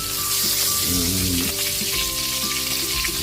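Hiwas fish frying in hot oil sizzles and crackles steadily and loudly up close, a dense continuous spitting with no voices.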